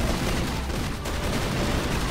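Dense gunfire in the shooter game Crossfire, a loud continuous burst of rapid shots filling the whole moment with no gaps and no talk.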